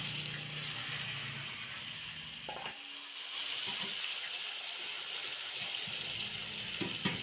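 Potatoes added to oil with bay leaves and tempering spices frying in a pan, a loud, continuous close hiss of sizzling oil with a brief clatter partway through.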